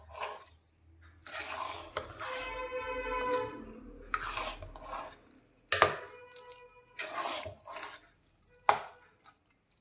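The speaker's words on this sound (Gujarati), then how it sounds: "ફરી એકવાર ખીચડીને મિક્સ કરીશું." Bajra khichdi with fresh coriander leaves stirred in a pot: soft, intermittent scraping and thick squelching strokes with pauses between them, plus a couple of sharper utensil knocks, quiet and close.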